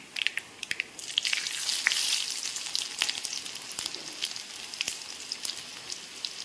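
Mustard seeds and finely chopped small shallots frying in hot oil for a jackfruit seed and drumstick leaf thoran; a dense hissing sizzle with scattered sharp pops and crackles, close and steady, no voices.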